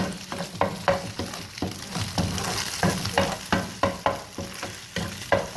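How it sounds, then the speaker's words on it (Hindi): An egg frying in a pan for aloo chapli kabab: a close, steady sizzle with rhythmic scraping strokes as it is stirred and broken into chunks, with no voices. "और ये अंडा भी हमारा फ्राई हो गया है।"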